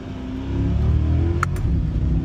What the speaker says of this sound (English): the first gear upshift is so nice and snappy